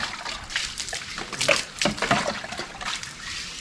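Water is poured onto a dry brick wall before plastering, with irregular splashes, sloshing and trickling at moderate to low volume.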